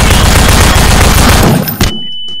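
SMG fire in Garry's Mod, a very loud rapid continuous burst that cuts off sharply with a thump near the end, leaving a quiet tail, no talk.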